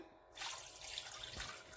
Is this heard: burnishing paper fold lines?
no